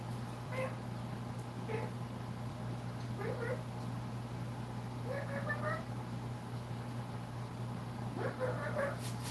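A voice softly imitates kitten mews, several short high squeaks spaced apart over a low steady hum.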